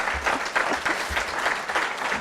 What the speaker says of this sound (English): That is something to clap for.